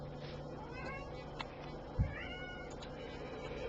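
A cat meows several times, soft rising calls at moderate distance over a steady low hum, with one brief thump partway through.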